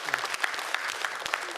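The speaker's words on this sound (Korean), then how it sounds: "박수 한번 부탁합니다." Crowd clapping at a public forum with the president, a short burst of brisk, close applause with distinct individual claps standing out.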